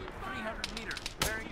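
Gunfire in the military shooter ArmA 3, a couple of sharp cracking shots under someone shouting, loud and close, with a distinct burst near the end.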